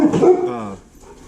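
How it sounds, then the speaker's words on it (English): Dogs barking outdoors on a windy day, giving a loud close bark that trails into a brief whimpering yip and then fades. "Maybe they're barking at a tumbleweed."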